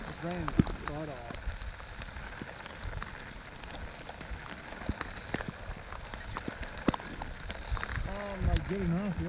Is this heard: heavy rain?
yes